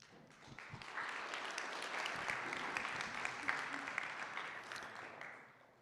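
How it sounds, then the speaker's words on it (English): An audience applauds as a Nokia guest walks onto the stage at a city-development conference: dense, steady clapping that swells over several seconds and then tapers, with no voices over it. "I think it's good now to have applause, with applause, to have Ari to enter the stage from Nokia."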